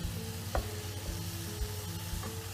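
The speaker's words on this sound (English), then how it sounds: "So I'm just going to give this a bit of a stir." Blanched vegetables for egg fried rice are stirred in a frying pan, a low steady sizzle under a humming background with a couple of brief utensil knocks, moderately quiet and close, no talking.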